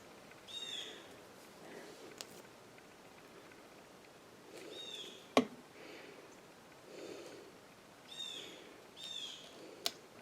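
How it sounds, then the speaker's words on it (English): Birds chirp faintly outside open windows in short, spaced bursts of high calls over a quiet room, with one sharp nearby click partway through. "as you can hear, if you hear the birds, I have the windows open"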